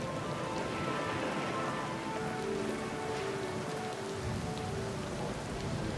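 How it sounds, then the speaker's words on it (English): Storm rain pounds a ship deck in Pillars of Eternity II, a dense, steady roar of drops on the surface with faint low rumbles beneath, loud and continuous with no voices. "Sailors shout orders to one another, clinging to the rigging for their lives as you cut your way through the storm."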